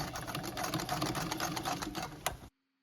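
Domestic straight-stitch sewing machine runs steadily on a shirt sleeve for a 1925-style man's shirt, a close, busy mechanical chatter of rapid stitching that stops abruptly near the end.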